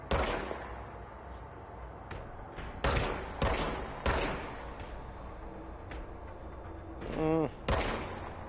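Several loud, separate gunshots ring out in Control, spaced irregularly a second or so apart, followed by a brief warbling effect and one more blast, with no talking.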